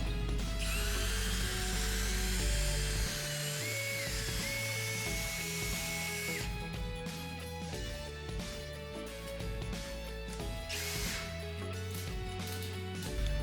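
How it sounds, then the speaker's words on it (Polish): A power drill with a 9 mm bit whines at high speed while boring through a wooden interior door, then drops to a lower grinding churn with rhythmic mechanical clatter and a brief rising whir. "Trzecie, a zarazem ostatnie wiercenie wykonałem wiertłem 9 mm."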